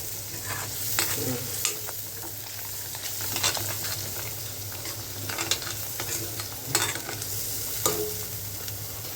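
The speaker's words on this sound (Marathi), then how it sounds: "आता ह्याला चांगला ना भाजून घ्यायचा तेल सुटेपर्यंत" Turmeric and Agri masala roast in oil in a pan for a mushroom paneer dish, a steady sizzle with repeated scraping stirs and spoon knocks, close and alone without talk.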